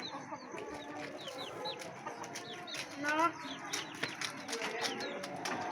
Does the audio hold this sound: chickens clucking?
yes